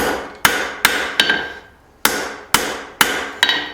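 A hammer forges a piece of dug-up junk metal, with seven sharp, ringing blows in an uneven rhythm, each followed by a short metallic decay, close and loud with no talking.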